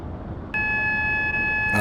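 A train's AWS warning alarm in Train Sim Classic sounds as a steady, clear electronic tone that starts abruptly and holds unbroken, loud and close, over a low rumble of the cab.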